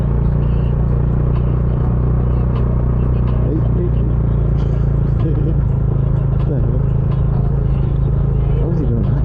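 A Bajaj Dominar 400 UG2 BS6 with its stock exhaust is ridden along a road in Bohol, giving a constant deep exhaust rumble mixed with wind noise, with a rider's voice talking over it in places.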